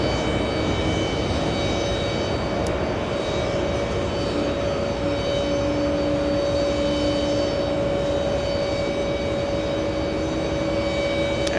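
An Airbus A340 roars steadily through its takeoff at JFK airport, a loud, sustained jet engine rumble with a thin whine on top that holds without a break for the whole stretch.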